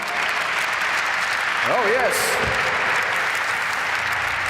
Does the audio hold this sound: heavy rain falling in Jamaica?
no